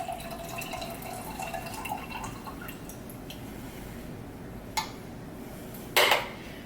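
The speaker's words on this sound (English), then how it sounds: "I'm going to just pour the juice in this can" Juice from a can of fruit trickling and dripping into another can, soft and close, with a few light metallic clinks and one sharper clatter near the end.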